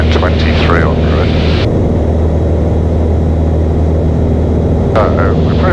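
Light aircraft engine drones steadily in level cruise after the throttle is eased back, a constant loud cabin hum with a pilot talking over it.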